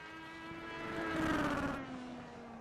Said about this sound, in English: Hear that car hitting the rev limiter, banging off the chip.